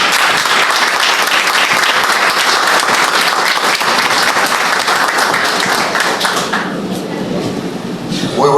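Loud, sustained audience applause welcoming the president of the Mara Municipal Council at a historiographic congress in La Sierrita parish, dense clapping that thins slightly near the end.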